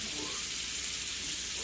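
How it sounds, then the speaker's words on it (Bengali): Fish fry in an overheated kadai, a constant bright hiss and crackle of hot oil up close with no talking. "মাছগুলোই দিয়ে দিয়েছি, একটু কড়াইটা বেশি গরম হয়ে গেছে।"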